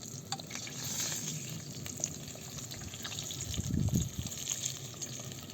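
Steady sizzling and crackling of mushrooms frying in a pan over an open fire, with soft scraping and stirring noises and a louder burst of sizzle near the end.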